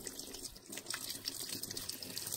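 Tap water runs steadily over an injured hand during a roadside vehicle repair on Joubert's Pass in Namibia, a continuous close splashing hiss with no talk.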